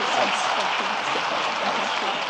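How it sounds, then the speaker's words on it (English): Steady, dense applause from a crowd, sustained and fairly loud throughout with no pauses, some voices faintly mixed in. "A round of applause as they head down."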